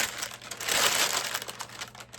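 Baking paper crinkling and rustling up close as it lines a cake tin, a continuous crackly handling noise that swells in the middle then trails off, with no talking.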